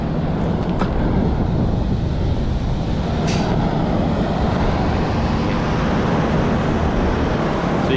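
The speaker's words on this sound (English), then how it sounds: "So you can see three of the motors are spinning in the wind." Fan motors on a 50-ton Trane rooftop unit freewheel in the wind outdoors, making a steady, loud broadband whoosh and rumble with a brief faint squeak partway through.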